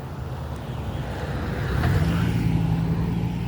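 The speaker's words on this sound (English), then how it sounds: "After this car makes its turn, I can walk across the street pretty safely." Car turning at a street intersection, its engine a low rumble that swells midway as it pulls through the turn, heard from the roadside amid light traffic noise.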